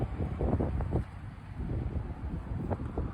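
Strong gusts of wind roar and buffet the microphone in a steady, loud rush that swells and eases over a few seconds, with low rumbling turbulence throughout and no voices.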